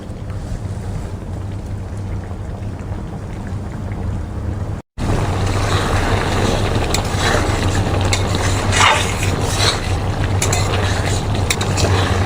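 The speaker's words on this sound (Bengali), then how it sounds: "ঝোলটা ভালো মতো ফুটে গেছে" Curry gravy for a long bean and paneer dish boiling in a pan: a loud, steady bubbling hiss that briefly cuts out near the middle, then carries on unbroken.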